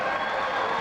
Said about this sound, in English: the crowd goes nuts as McAdam Thornton makes that one